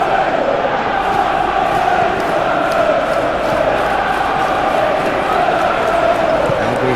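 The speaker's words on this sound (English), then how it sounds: "We have a hugely expectant crowd here." Steady roar of a large stadium crowd in a Tottenham Hotspur Master League football video game, a dense, continuous wash of massed voices and cheering that never drops away across the whole stretch.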